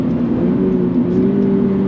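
A 2024 Subaru BRZ tS engine pulls steadily under load in second gear with its 6-speed manual, its tone rising slowly as it accelerates, a smooth sustained drone.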